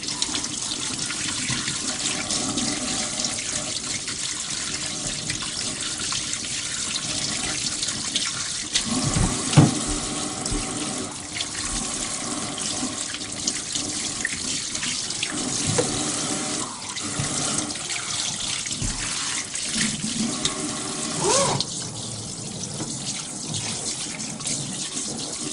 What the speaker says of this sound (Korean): 이제 물을 틀고